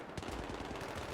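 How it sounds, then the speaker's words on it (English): Rapid automatic gunfire from the video game Battlefield 3 rattles in a quick burst of evenly spaced shots, fairly loud and dense over about a second. "we get our hands on a sniper and shoot a couple of RPG guys"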